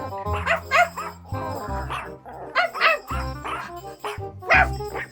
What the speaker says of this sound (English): two puppies had barked all the way